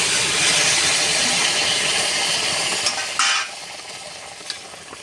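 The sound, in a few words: boiled potatoes and cauliflower added to frying fish curry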